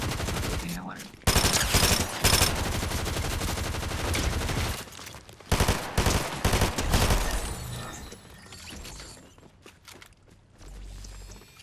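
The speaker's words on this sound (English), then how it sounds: "I'm just using SMG." SMG gunfire in Fortnite Zero Build Battle Royale, rapid close-range automatic bursts in several loud volleys separated by brief pauses, tapering to quieter sounds near the end.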